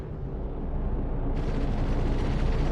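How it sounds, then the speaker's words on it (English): Ship point defense cannons firing during a space battle in the Star Citizen video game, aboard an RSI Salvation, heard as a continuous roaring barrage of rapid blasts that grows louder and brighter midway. "My point of defense cannons are shooting."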